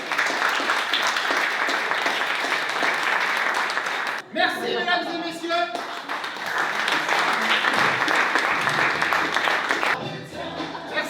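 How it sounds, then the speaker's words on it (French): A live audience applauds performers after a sketch show, a loud sustained roar of clapping broken midway and near the end by a voice briefly addressing the crowd. "Donc vraiment un tonnerre d'applaudissements pour eux."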